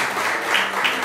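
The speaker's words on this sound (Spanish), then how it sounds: "Un fuerte aplauso para Pedro González" Brief burst of applause from a comedy show audience after a comedian's set, a dense steady wash of clapping at moderate volume with no voices standing out.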